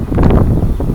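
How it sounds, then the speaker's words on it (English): Gusts of strong wind buffet the microphone in a loud, rumbling rush outdoors. "it just got super windy out here"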